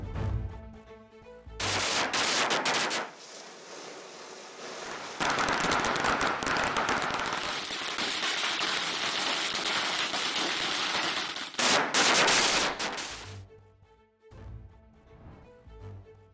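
Firecrackers bursting in dense crackling volleys during Diwali celebrations in Chennai and Tiruchi, loud rapid chains of pops separated by brief gaps, with no talk.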